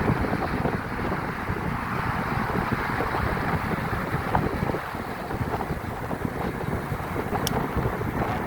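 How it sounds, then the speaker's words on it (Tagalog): Strong, steady wind roar buffets the microphone throughout while riding a Bultaco motorcycle along a coastal road, a broad continuous rush with no talk and only a brief faint high tone near the end. "Sarap ng hangin."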